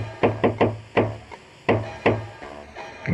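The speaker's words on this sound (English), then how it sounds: "Knock on the door using the secret knock." Knuckles rap a motel door in a patterned secret knock in Jazzpunk: a quick triple, a single, then a pair, a short pause and another knock, crisp, wooden and close in a quiet room.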